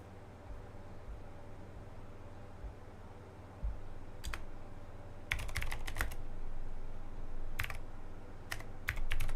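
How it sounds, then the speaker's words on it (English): Computer keyboard typing at a programmer's desk, faint bursts of sharp clicks in short irregular clusters over a steady low hum, with long quiet gaps between the flurries. "you guys hear the keyboard sounds over on YouTube?"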